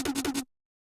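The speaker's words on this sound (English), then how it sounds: "So over here, I just cut up the snare and it sounds like this." A cut-up, distorted snare drum sample fires four times in a fast stutter over about half a second, then cuts to silence.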